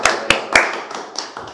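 At an academic lecture, a few sharp, close hand claps ring out, then several fainter, scattered claps follow and fade within about a second.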